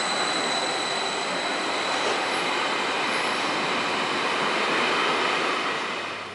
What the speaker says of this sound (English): This train is amazingly smooth.